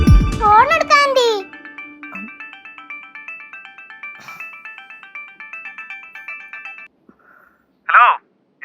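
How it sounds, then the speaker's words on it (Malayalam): Mobile phone ringtone playing a repeating electronic melody in a steady pulsing pattern for several seconds, loud and close in an indoor comedy sitcom scene, after a short burst of talk at the start and a brief voice at the end. "ഫോൺ എടുക്ക ആന്റി."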